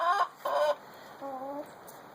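A hen in a laying box gives three drawn-out clucks, two close together and a softer, lower one after a pause, near and fairly quiet, without talk.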